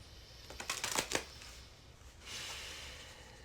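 A deck of tarot cards being shuffled and cut close up, a quick burst of riffling flicks followed by a softer sliding rustle, faint and with no talking.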